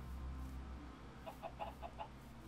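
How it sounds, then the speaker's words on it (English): Chickens clucking in Minecraft, a short run of soft, blocky clucks and chirps over a steady low background hum, moderately close and fairly quiet. "Chickens."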